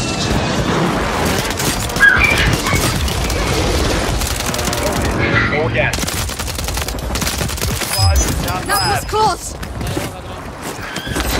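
Airstrike explosions and rapid gunfire roar through a battle-royale video game, dense and loud throughout with crashing blasts, while voices talk over the din.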